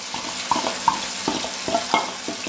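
Ground batter being stirred into a pan of frying asafoetida and curry leaves for uppu urundai, with a steady soft sizzle broken by repeated scraping and clinking strokes of the spoon against the pan, close and fairly quiet.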